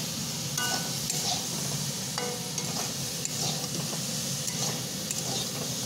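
Mixed vegetables are stir-fried in a pan with a dense continuous sizzle and repeated scraping, rattling strokes of a spatula, close and fairly loud throughout, nobody speaking.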